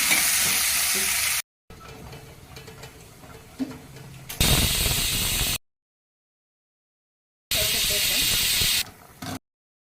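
Loud sizzling and hissing from a hot pan as vegetables are stirred into tempering for sambar, broken by brief silences, while a voice talks quietly in between.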